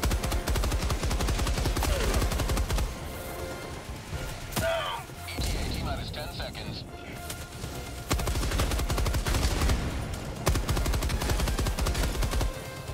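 Rapid automatic gunfire in the video game Helldivers 2, dense continuous bursts with a few sharp single shots and a brief lull midway, loud and close.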